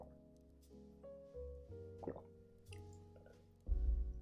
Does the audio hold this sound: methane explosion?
no